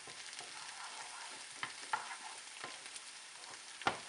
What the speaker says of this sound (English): So now the onions are almost being browned.